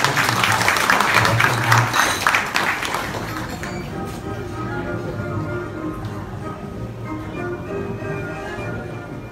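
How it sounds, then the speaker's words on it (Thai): Wedding guests applaud to welcome the bride and groom at a simple Thai wedding ceremony, with dense clapping in the first few seconds that thins and fades into a softer, steady room murmur. "เราจะขอเสียงปรบมือต้อนรับคุณมนัสนันท์ พันธ์เลิศวงศ์สกุลและคุณการจำนง"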